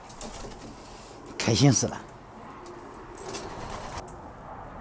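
A young pigeon practising flight beats its wings in a short burst of flapping at the loft, with a person speaking briefly around it.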